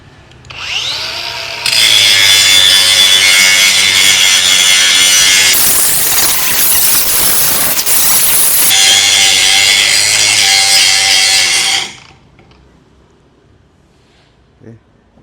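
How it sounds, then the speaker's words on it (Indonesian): A DongCheng DCSM03-125 cordless angle grinder grinds continuously for about ten seconds, loud and steady with a harsh high whine, then cuts out as the battery dies; someone talks quietly before it starts. "Banyak banget ini yang digerinda."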